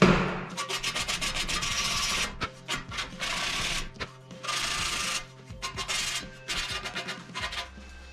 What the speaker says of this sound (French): Je vais essayer de repasser un petit coup de cale.